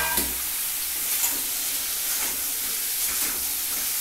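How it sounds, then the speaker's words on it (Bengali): Spices and garlic fry in a pan for egg curry, giving a steady close sizzle and hiss with occasional light scraping stirs, with no talk over it. "এটা একটু ভাজা হোক"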